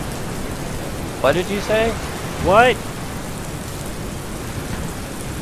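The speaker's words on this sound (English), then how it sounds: "The sound of the rain is too hard." Heavy rain pouring in the Halo video game, a dense, steady wash of noise throughout, with a voice speaking briefly over it.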